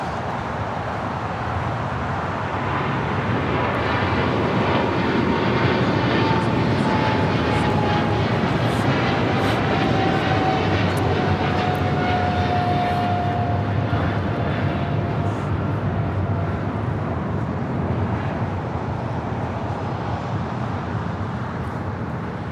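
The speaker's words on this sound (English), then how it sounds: "we have a China Cargo Airlines 777 freighter now rolling down at 25 right" A China Airlines Cargo Boeing 777 freighter takes off from runway 25 right at LAX, its engines a loud, sustained roar that builds and holds for over twenty seconds with no talk over it.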